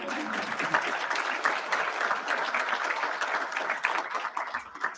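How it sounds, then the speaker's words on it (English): An audience at a 2023 residency graduation ceremony claps for the graduates, with dense applause that holds steady throughout and carries a faint murmur of voices underneath. "that's right, clap for them"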